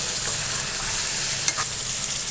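Onions frying in oil keep up a dense, steady sizzle close by, with one brief stir or tap standing out near the middle, and no voices.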